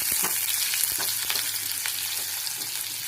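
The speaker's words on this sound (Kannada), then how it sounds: "ಇದನ್ನು ಚೆನ್ನಾಗಿ ಫ್ರೈ ಮಾಡ್ಕೋಬೇಕು ಸ್ವಲ್ಪ" Urad dal, four green chillies and a small onion fry in a pan, a continuous close sizzle with scraping stir strokes throughout.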